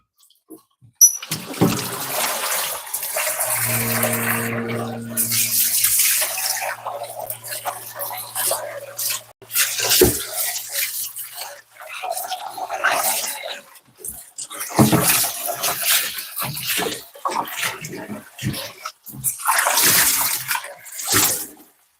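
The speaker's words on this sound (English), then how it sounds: "I'm just gonna rinse it out because it's not even that bad." Tap water runs and splashes as a pan is rinsed in a pottery studio, with a steady hissing stream broken by brief pauses while a person talks over it.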